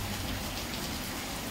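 Heavy rain pours down in a dense, steady hiss, loud and close, with no voices and an abrupt cutoff at the end.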